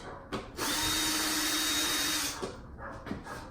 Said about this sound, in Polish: Ale resztę trzeba odkręcić.